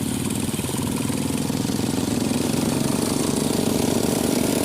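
Close, steady idle of a Bajaj Pulsar NS200 motorcycle with a new aftermarket exhaust, an even, low, throbbing rumble heard alone without pause.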